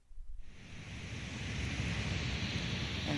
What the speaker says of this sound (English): Here's what white noise sounds like.